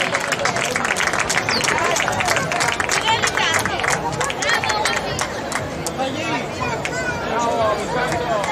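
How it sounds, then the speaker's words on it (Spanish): An audience at a youth handball trophy ceremony in Moaña claps and cheers in a steady, dense wash of applause, with crowd chatter and a presenter's amplified voice over it. "Un forte aplauso."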